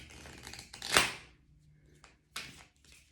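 Deck of oracle cards being shuffled: one sharp, crisp riffle followed by a couple of quicker, softer flicks and shuffles, close up in a quiet room.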